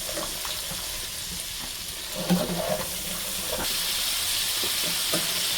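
Golda chingri prawns fry lightly in a pan with a gentle, hissing sizzle that swells slightly midway, with a few faint clinks and stirs and no one speaking.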